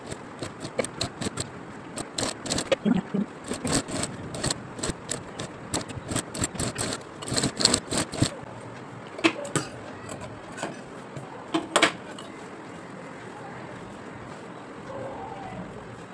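Sewing machine stitching a blouse seam, rapid rattling bursts of needle strokes in several quick runs with short pauses, close and fairly loud, tapering into lighter scattered clicks.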